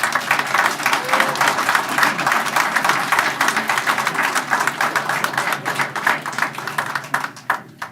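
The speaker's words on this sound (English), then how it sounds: "let's have a round of applause for all of our wonderful flags" Steady, dense applause from an audience at a regular city council meeting, holding at an even level for several seconds before tapering off near the end.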